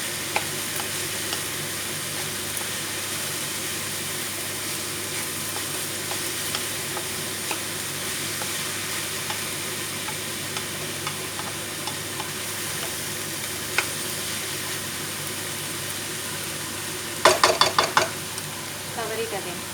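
Shredded cabbage and already-fried potatoes get mixed in a frying pan with a steady low sizzle throughout. Faint stirring knocks recur, and a burst of louder clattering scrapes comes near the end.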